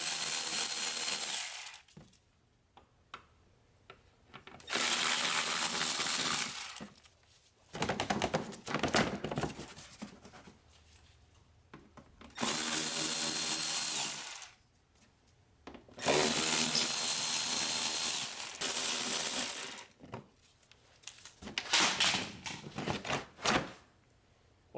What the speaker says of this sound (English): So I'm gonna remove these screws first.